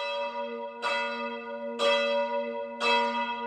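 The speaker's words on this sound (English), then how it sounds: "when we hear the bell at St. Clement's Church" The bell of St. Clement's Church tolls three times at even intervals, each strike clear and ringing with a long humming decay over a quiet background.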